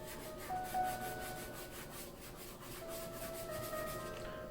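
Steady, rhythmic rubbing strokes of a fingertip smoothing charcoal pencil shading on paper, close and fairly soft, with no talk.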